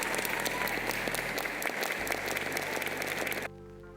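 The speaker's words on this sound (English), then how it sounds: "round of applause." An audience applauds in a steady, dense wash of hand claps lasting several seconds, then stops suddenly, moderately distant and alone without voices.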